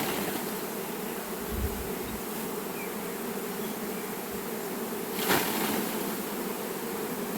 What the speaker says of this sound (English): So we wanna shake brood frames so we target the baby bees.